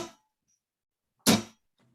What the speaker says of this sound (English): by dropping my palm and simultaneously scraping the pick across the strings